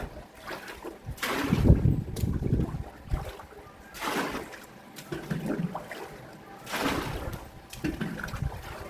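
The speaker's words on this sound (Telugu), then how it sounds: "టబ్లో అయితే నీళ్ళు పోస్తున్నాను." Water is poured into a tub for rinsing clothes in several separate gushing surges, close and moderately loud, with quieter trickling between pours.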